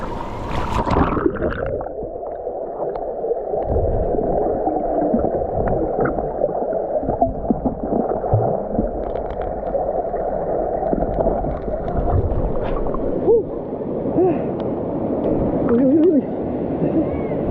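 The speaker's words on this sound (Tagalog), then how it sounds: "Malakas pala agos dyan Malakas ang agos dyan." A strong river current flows steadily near a picnic spot, with a continuous rushing, gurgling wash of water heard close by throughout and people talking over it.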